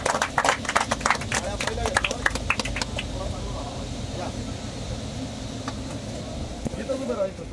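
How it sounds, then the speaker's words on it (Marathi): A crowd on a journey to Raigad fort applauds a young shahir before his powada, with sharp irregular claps bunched near the start that thin into scattered claps over a low background rumble. "जोरदार टाळ्या"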